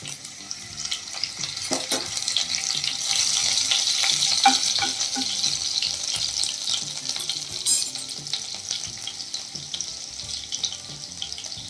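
Curry leaves and finely chopped green chilli crackle in a pan of hot oil for rava masala idli, a bright close sizzle that swells and eases with a few stirring clinks, no voices.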